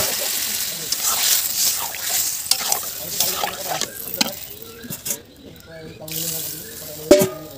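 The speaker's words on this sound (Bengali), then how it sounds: "আর এবার জলটা দিয়ে দেবো আমি," Water is poured into a pot of taro curry with egg as it sizzles on the stove, splashing and hissing close up while a spoon stirs, and someone talks intermittently.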